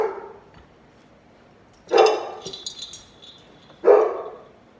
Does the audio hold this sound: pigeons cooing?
no